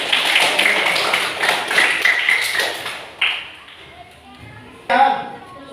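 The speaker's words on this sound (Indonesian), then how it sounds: "Tepuk tangan buat Azka." Primary school children clap for a classmate in a classroom. Dense, lively applause fills the room, then thins into a few scattered claps and taps. Children's voices can be heard under it.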